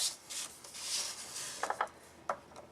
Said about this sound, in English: now we need to just score it at 1/2 inch mark